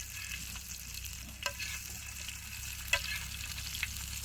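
Pomfret fish frying in oil, a steady soft sizzle with occasional small pops and crackles, close and faint, alone.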